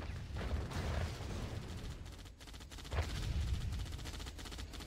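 Rapid tank gunfire and explosions crackle through a Red Alert real-time strategy match, with dense bursts of shots and booms rolling on and off at moderate loudness.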